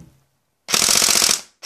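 A Tokyo Marui AK105 airsoft recoil gun firing a sustained full-auto burst, a rapid loud mechanical rattle of evenly spaced shots lasting under a second, followed by the start of another burst, close up.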